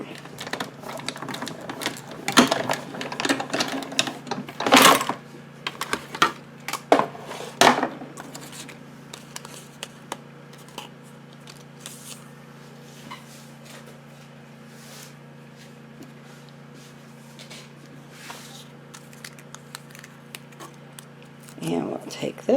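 Scissors snip through paper card pieces for a rustic harvest fall card, a series of sharp crisp cuts that cluster early and then thin out, with a person speaking at times.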